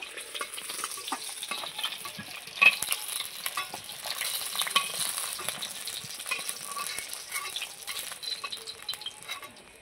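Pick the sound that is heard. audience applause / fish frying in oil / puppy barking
fish frying in oil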